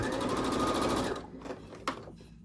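A sewing machine stitching quilt block fabric runs loud and fast with a steady rapid rhythm for about a second, then stops, followed by a few faint handling sounds and one brief click.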